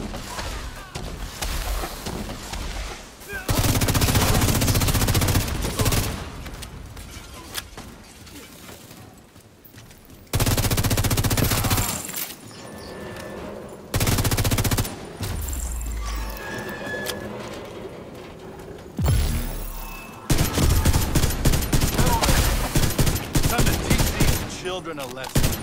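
A mounted heavy gun fires long, loud bursts of rapid automatic fire in the Division 2 video game, separated by short pauses and mixed with game effects.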